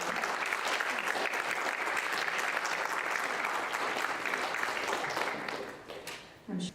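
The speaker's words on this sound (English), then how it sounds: "What a nice round of applause" An audience claps in a sustained, dense round of applause at a talk, loud and steady for several seconds before fading out near the end, with a brief burst after.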